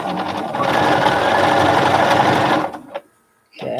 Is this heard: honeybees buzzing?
no